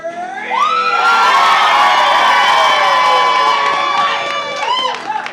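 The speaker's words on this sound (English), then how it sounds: "give us your best groundling cheer" Audience at a Valentine's performance of Much Ado About Nothing lets out a loud, sustained group cheer with high whoops and shouts, rising suddenly, holding steady for several seconds, then tapering off.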